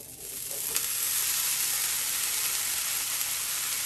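Hibachi teriyaki chicken sizzling steadily on a hot Steelmade USA flat top grill, a loud continuous frying hiss with one small crackle near the start and no voices.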